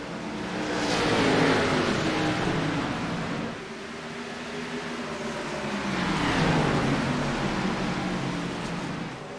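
Xfinity Series stock cars racing at Richmond Raceway in the iRacing game, engines rising in pitch as they accelerate, with two loud swelling surges that fade slightly in between.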